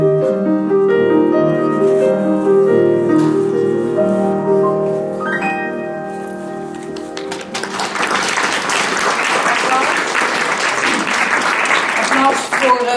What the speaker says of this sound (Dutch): Applaus voor Hans Stijg.